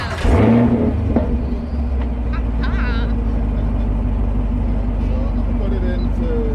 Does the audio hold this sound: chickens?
no